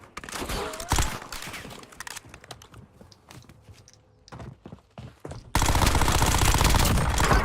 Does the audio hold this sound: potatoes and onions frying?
no